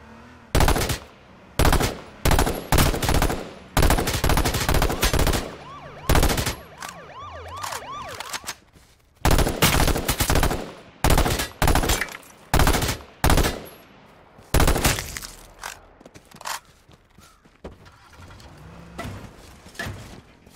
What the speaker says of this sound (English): Oh my god, an LMG.